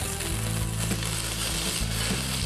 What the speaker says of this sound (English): Then you put a decent handful of those shallots in, and you'll hear that sizzle.